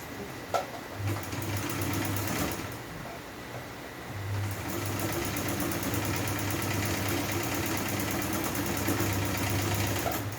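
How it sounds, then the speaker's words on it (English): A sewing machine runs steadily stitching elastic into a satin-lined Ankara turban, a close mechanical whirr with a brief pause early on before it picks up again and continues to the end. "you go ahead to sew it, so you secure the elastic"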